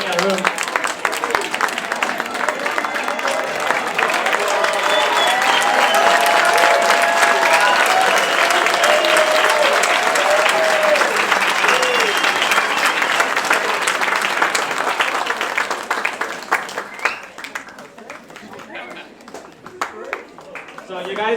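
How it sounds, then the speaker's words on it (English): Sustained applause from an audience at a school winter concert, dense steady clapping that rises and holds for most of the stretch before thinning out near the end. "please, one more round of applause."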